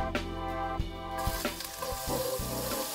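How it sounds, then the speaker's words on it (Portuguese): Butter melting in a pan with crispy prosciutto for a brie risotto: a steady, bright sizzle rises and holds, layered under background music with a few soft knocks. "Então a gente vai adicionar mais uma parte da manteiga."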